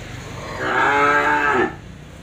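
A single long moo from cattle at a beef cattle farm in Tra Vinh, Vietnam, rising and holding for about a second, fairly close over a quiet background.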